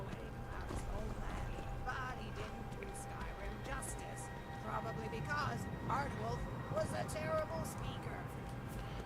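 A horse gallops in the video game Skyrim, its hooves making a steady, rapid clip-clop under continuous talk and game noise.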